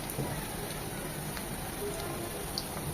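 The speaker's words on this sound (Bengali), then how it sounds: "মিনিমাম চার থেকে পাঁচ মিনিট ওই পাশটা এভাবে ভেজে নেব" Chicken chops frying in oil over medium heat produce a soft, steady crackling sizzle, faint and even across the whole stretch with a few light pops, no voices.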